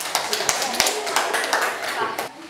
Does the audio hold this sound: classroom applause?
yes